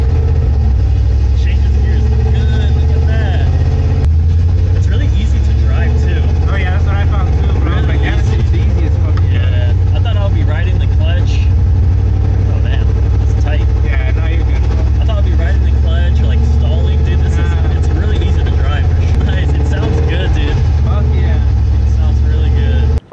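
A Coyote-swapped classic Ford Mustang runs on its first drive, the engine a loud steady rumble that holds throughout with a faint voice underneath.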